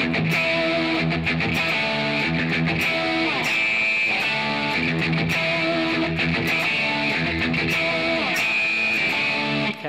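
Electric guitar plays the pre-solo section of a song, a steady, loud stretch of sustained chords and ringing notes with a full band-like tone, continuous for about ten seconds with no talking.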